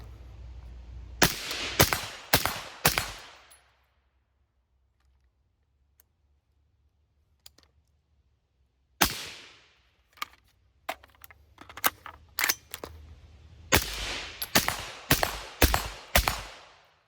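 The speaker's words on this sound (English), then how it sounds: "This is the very first shots with the Quattro-15." A Desert Tech Quattro-15 rifle fires loud, sharp close shots in quick bursts of four or five, with a long quiet pause in the middle followed by more scattered shots and another rapid string.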